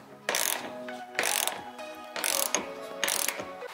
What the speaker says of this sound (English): So let's go ahead and bolt these down,